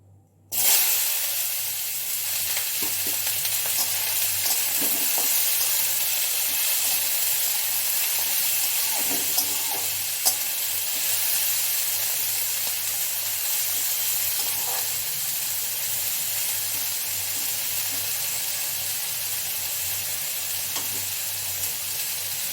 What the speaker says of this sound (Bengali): তেল গরম হয়ে গেছে, কড়াইতে দেখো ধোঁয়া উঠছে।